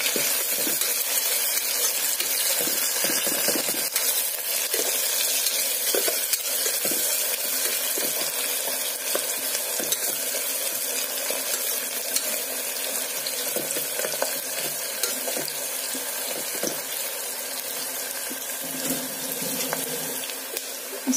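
Onions frying in hot oil in a pan for a homemade pulao, giving a steady, close hiss and sizzle with light stirring scrapes, continuous and fairly loud with no voices.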